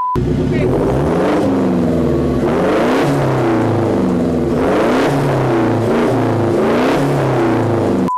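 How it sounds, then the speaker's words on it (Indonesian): A turbocharged car engine revving repeatedly through a loud aftermarket full-system exhaust, each burst climbing in pitch then dropping back, close and aggressive. "nanti kalian sama-sama dengerin knalpotnya itu suaranya seperti apa"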